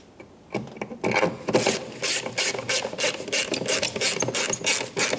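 Two screws are snugged up on the third brake light assembly of a 1997-2003 Ford F-150. Rapid, close ratcheting clicks start after a brief quiet moment and continue in an uneven rhythm.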